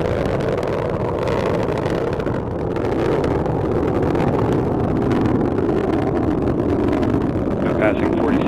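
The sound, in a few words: Delta IV rocket roaring during supersonic ascent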